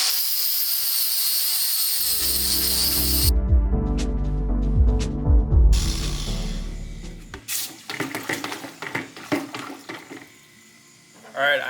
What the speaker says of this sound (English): I'll just use a Dremel and clean these inner, I guess,